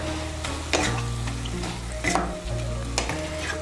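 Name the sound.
stirring spinach and aubergine ghonto in frying pan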